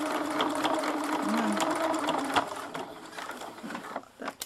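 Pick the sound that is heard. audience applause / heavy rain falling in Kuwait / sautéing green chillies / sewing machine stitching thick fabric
sewing machine stitching thick fabric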